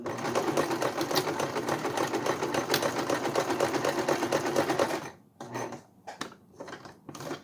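Sewing machine back stitching a fabric bake-even cake strip, a steady dense whir running about five seconds and then breaking into short stop-start bursts.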